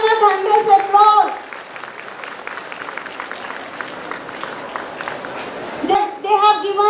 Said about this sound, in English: Please put your hands together, give them a thunderous applause.